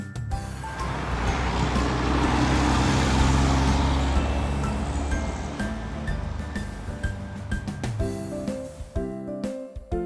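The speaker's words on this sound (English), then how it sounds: "road roller" A road roller construction vehicle's engine rumbles, swelling louder as it nears and then fading away, and a short stretch of tonal music follows at the end.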